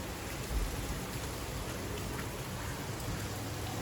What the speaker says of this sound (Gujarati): બહારનો વરસાદ જો રાતનો ચાલુ છે કન્ટિન્યુ આવો ને આવો.